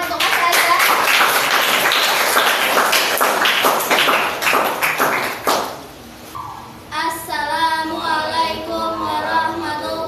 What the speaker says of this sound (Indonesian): Beri tepuk tangan untuk Mas Raza.